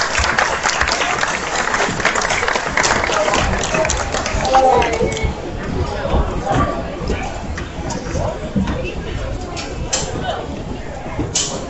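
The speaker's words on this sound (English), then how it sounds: "Let's pay off those kids with a nice big round of applause" A crowd at a county fair hog show gives a big round of applause for the young exhibitors, dense clapping that fills the ring and slowly thins out.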